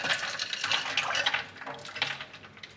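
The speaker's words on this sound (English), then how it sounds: "now we're adding another quart of ice and water mixture to it" A quart of ice and water is poured into a Jello mixture, a splashy gushing stream with faint clinks of ice, heavier at first, then thinning into lighter trickles and splashes.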